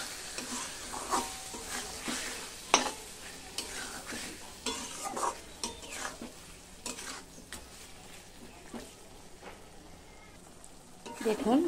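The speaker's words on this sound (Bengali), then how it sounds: "মটনের সাথে এটাকে কষে নেব।" Mutton stir-fried with salt in a pan for a Bengali mutton curry, giving a steady sizzle with scraping spatula strokes and occasional clinks of metal on the pot throughout.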